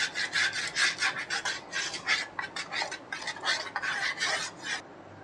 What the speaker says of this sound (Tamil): ட்ரேயில் ஆட் பண்ணதுக்கப்புறம் வழக்கம் போல் டூத் பிக்கை வச்சு இதை ஈவன் பண்ணிக்கலாம்.